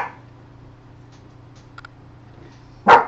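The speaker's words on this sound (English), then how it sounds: "My dog is barking at his dog food for some reason." A dog gives a single sharp bark at its food at the very end, after a quiet stretch with faint ticks and a low hum.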